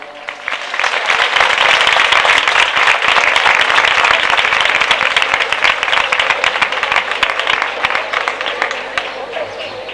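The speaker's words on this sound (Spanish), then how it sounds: "yo os voy a pedir un fuerte aplauso" A large crowd applauds loudly at a town fair's opening proclamation in Spain, with thick, continuous clapping and sharp crackling claps sustained throughout at high volume.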